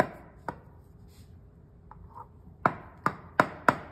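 A knife cuts a slice from a fluffy two-ingredient cake, marked by several sharp close taps and knocks against a board or plate, widely spaced at first and then coming in a quicker run.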